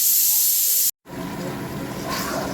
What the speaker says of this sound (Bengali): পেঁয়াজটা ভাজা চলছে এখানে